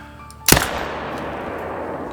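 One loud, sharp rifle shot fired at an animal in theHunter: Call of the Wild cracks out suddenly, then its echo rolls away across open outdoor ground over a steady ambient hiss, with no speech.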